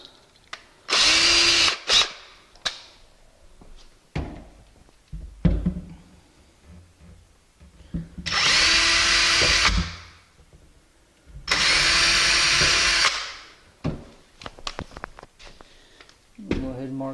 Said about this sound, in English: I like to drill a little pilot hole.